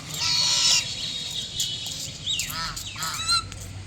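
Geese guarding two small goslings honk loudly and repeatedly at close range outdoors in a deer park, harsh calls overlapping in quick bursts.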